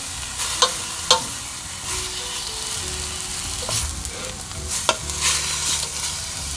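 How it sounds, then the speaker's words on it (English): Mushrooms for a vegan bigos stir-fry sizzle steadily in a pan, with a few sharp scrapes and taps of a utensil stirring them, close and without talk. "The mushrooms are really nicely stir fried"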